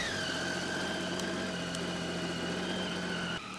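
A motorcycle engine idles in a dark backyard, a steady quiet hum with a faint whine that runs evenly, then drops off abruptly just before the end; no one speaks.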